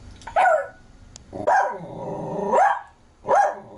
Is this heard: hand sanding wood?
no